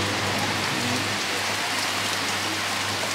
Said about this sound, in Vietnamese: Hôm nay lại mưa nữa rồi. Mưa nãy giờ quá là lâu rồi.